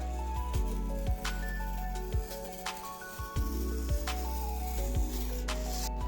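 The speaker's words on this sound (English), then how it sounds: "we'll need to flip it over and then score it again from the back" Blade scoring through poster board, a run of short sharp scraping strokes repeated roughly every half second to second, close and distinct over a steady low background hum.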